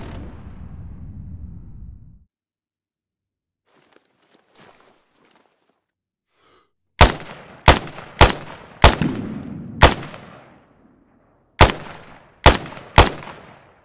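Gunfire in the video game Arma 3 on the Stratis map, a run of sharp single shots in an uneven rhythm, loud and close after a stretch of near silence, with a low rumble at the start.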